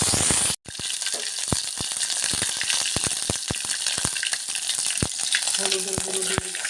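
Bay leaf, cumin and ginger-garlic paste frying in hot oil for aloo dum, a loud close sizzle with repeated sharp stirring scrapes against the pan, after a brief dropout near the start.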